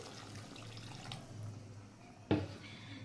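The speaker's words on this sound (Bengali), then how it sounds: "আমি এর মধ্যে পরিমাণ মতো জল দিয়ে দিচ্ছি" Water is poured into a pan of frying fish curry with potato, cauliflower and lentil dumplings, a brief close splash and gush near the end after a low simmering background.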